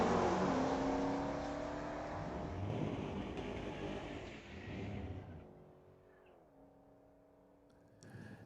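A 1970 Dodge Dart drag racing at Mission Raceway Park, a loud engine roar that rises in pitch through the gears and then fades into the distance, with a short burst of sound returning at the end.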